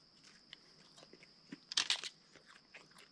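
Crispy fried Spam crunched and chewed close up at a campfire dinner while truck camping, with a few soft bites building to a loud crunchy burst and then lighter chewing.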